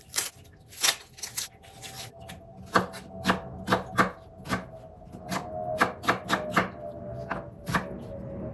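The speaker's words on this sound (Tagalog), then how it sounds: "Tapos na natin nahiwa yung mga sangkap natin" Cooking ingredients for a vegetable and sardine dish are chopped on a board in sharp, close knife strikes, irregular but brisk, with soft scraping between cuts and no talking.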